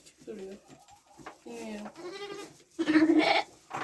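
A young lamb bleats several times in short wavering cries, close by, with people talking faintly around it.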